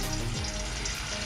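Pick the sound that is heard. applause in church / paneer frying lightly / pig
paneer frying lightly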